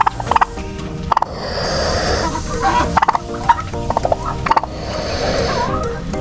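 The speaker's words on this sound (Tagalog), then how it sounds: "Dito po mayroong isang pabo na naglilimlim." A brooding turkey hen sitting on eggs with a newly hatched chick gives repeated close gobbling and clucking calls in short bursts, over a steady rustling background.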